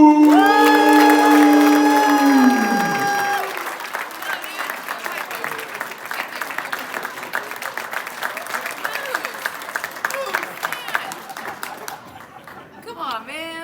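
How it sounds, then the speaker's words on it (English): A crowd at a Nashville SC unified team signing day bursts into loud applause and cheering over a sustained held music note, then settles into a long, steady wash of clapping with scattered shouts, fading slightly near the end. "So everybody, please give a huge round of applause to my brother"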